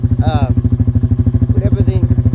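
The engine of a quad fitted with a modified exhaust runs with a steady, loud, rapid thumping pulse close by, while a person talks over it.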